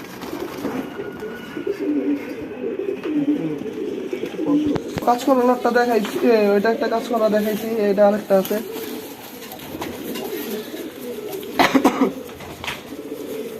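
Racing pigeons coo in a loft, low throaty calls running throughout while someone talks over them, with a few sharper bursts near the end.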